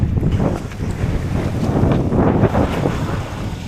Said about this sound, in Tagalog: Mainit pero malakas ang hangin